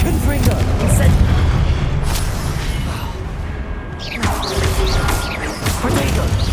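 Spells and Confringo fire blasts going off in Hogwarts Legacy, with loud booming crashes and whooshes piling up continuously over a dense, busy game soundscape, with a short lull partway through.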